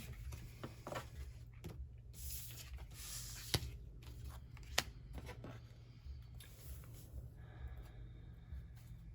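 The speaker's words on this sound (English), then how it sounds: "I'm gonna go ahead and get all the cards off the table" Tarot cards are gathered off a table with quiet, close papery shuffling and sliding. Two sharp soft taps stand out, and the sound is faint overall.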